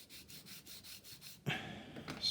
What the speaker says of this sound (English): we can come in with a coarse sanding stick